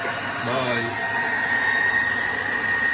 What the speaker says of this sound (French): Et je vais brancher le sèche-cheveux en même temps.